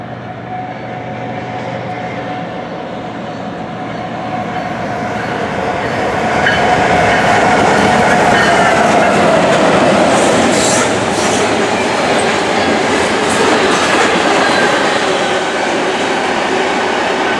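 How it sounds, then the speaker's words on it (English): A CN freight train rumbles past close by at speed in Cobourg, Ontario, its steady roar building and then holding loud, with rhythmic wheel clatter and a faint metallic hiss. "CN train, L517, speeds through."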